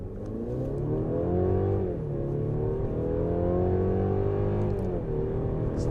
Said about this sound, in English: We're just gonna stop and smash on the gas.